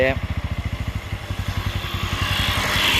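A motorcycle engine thumping in a rapid, steady idle rhythm close by, then the note smooths and rises slightly as the bike is put in gear and moves off, with a person talking over it.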